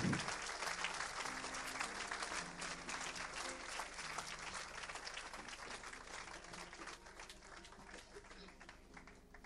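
A congregation at a church service applauds in dense, sustained clapping mixed with crowd noise, loud and close throughout, fading slightly toward the end.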